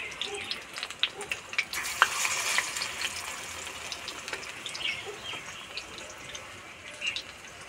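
Mustard greens rolls coated in gram flour batter frying in hot oil, a soft continuous sizzle with scattered crackles and pops, fairly quiet and close, with no talking.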